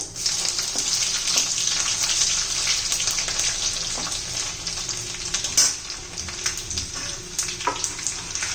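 Crushed garlic sizzles steadily in hot oil in a pan, a continuous close, bright frying hiss with faint scraping, no one talking.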